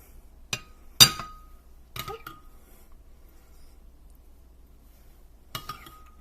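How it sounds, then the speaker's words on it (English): A spoon clinks against a plate or container while leftover hollandaise sauce is served onto a plated pizza, giving four or five sharp, isolated metallic taps separated by quiet pauses. "I'm going to spoon some of this hollandaise sauce that I had left over"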